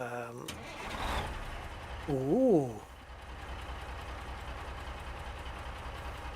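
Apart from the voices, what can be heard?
truck engine starting and idling in American Truck Simulator video game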